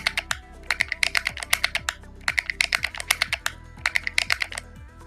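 Quick bursts of taps on a mobile phone keyboard as a name is entered, arriving in short rhythmic clusters with brief pauses between them, close and clear over a steady low background hum, no voices.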